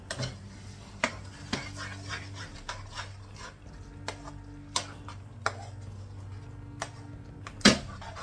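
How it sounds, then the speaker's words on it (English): A spoon stirs lamb jalfrezi with base gravy in a pan, giving sharp metallic clinks and scrapes at irregular intervals over a low background hum, with one louder knock near the end. "And stir that in."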